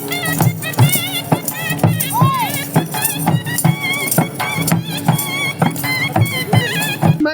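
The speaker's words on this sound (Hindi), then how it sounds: "मैं यहाँ पर देख रहा हूँ कि जो घोड़े हैं वो तकरीबन ऑलमोस्ट एक जैसा डांस कर रहे हैं" Dancing horses at a horse dance competition in Lodhran beat out rhythmic hoof strikes against a busy backdrop of drums, music and crowd noise, with occasional voices mixed in.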